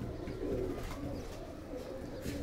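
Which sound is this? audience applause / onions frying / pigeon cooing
pigeon cooing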